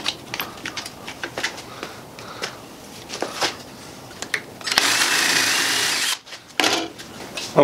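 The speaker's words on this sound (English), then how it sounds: "Then we'll clamp this and just drill a hole right into there." A power drill bores into a plaster mold in short whirring bursts at first, then runs in a sustained, louder grinding stretch before stopping and briefly restarting, close up.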